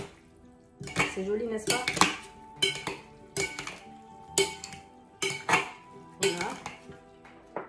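A utensil gently tosses rice salad with cod in a dish, giving a series of light clinks and scrapes against the dish in an uneven rhythm, close by, with a voice speaking briefly.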